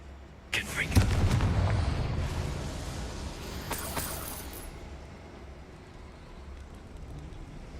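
A Confringo blasting spell goes off in Hogwarts Legacy: a sharp, loud magical explosion with a crackling burst, then a second blast and a fading rumble.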